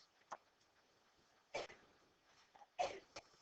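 A sneeze during a classroom math lesson, heard as two short, fairly loud bursts about a second apart over a quiet room.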